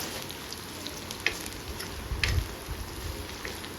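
Shallots and dried red chilies fry in oil for Pallipalayam chicken, a steady close sizzle broken by a few stirring clinks and scrapes.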